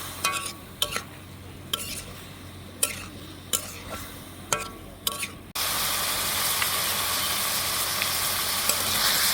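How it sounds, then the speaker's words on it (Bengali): Fried vegetables being stirred and sautéed in a spice paste for a Bengali fish curry, with a few sharp spatula scrapes against the pan, then a steady loud sizzle once the vegetables hit the hot masala. "সবজিটাকেও আমি এই মশলার মধ্যে কষিয়ে নিব।"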